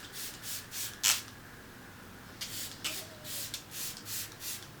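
Repeated short hissing spritzes from a facial mist spray bottle, about a dozen quick bursts in an uneven rhythm, close and fairly soft.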